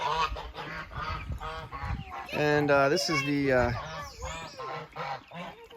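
Geese and ducks honk and chatter loudly at a goose coop on a northern farm, overlapping someone talking nearby.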